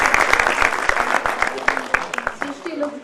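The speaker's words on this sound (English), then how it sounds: "give a round of applause to yourselves" Graduation ceremony audience of IB Diploma students clapping for themselves, loud dense applause that tapers off as a voice starts speaking.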